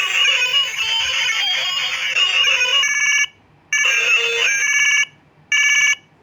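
An old mobile phone plays a loud, bright synthetic melody through its small speaker. The tune cuts out twice, leaving short silent gaps before it resumes.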